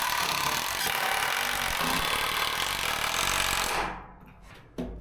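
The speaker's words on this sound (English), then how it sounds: "We're gonna run a few screws into the stud here to hold it in place." A power driver sends screws into a wooden wall stud at a boat house build, a loud continuous buzzing grind for about four seconds that stops abruptly, followed by a brief knock.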